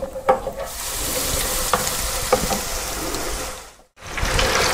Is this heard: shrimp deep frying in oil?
yes